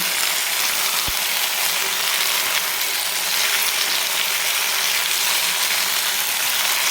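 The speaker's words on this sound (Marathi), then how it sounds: "तर बघा हे आपले बटाटे एकदम छान असे भाजून शिजून तयार झालेले" Diced potatoes roast in hot oil in a pan, a loud, steady sizzle and crackle filling the whole stretch with one sharp clink near the start.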